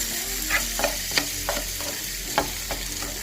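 Chopped onions frying in a little olive oil in a pan, a soft steady sizzle with occasional stirring scrapes and clicks spaced through, close and moderate in level, no voices.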